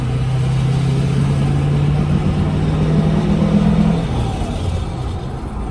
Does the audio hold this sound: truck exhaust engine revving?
yes